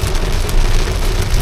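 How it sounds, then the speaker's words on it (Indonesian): Heavy rain pounds steadily on a car traveling the Solo–Semarang toll road in Indonesia, a loud, dense, unbroken roar with no speech. "cuaca hujan makin lebat"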